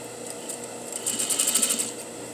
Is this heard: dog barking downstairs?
no